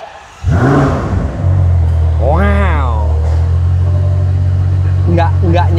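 A Ferrari 12Cilindri V12 cranks and fires into a loud, steady idle, with a brief rising rev blip and people talking over the rumble.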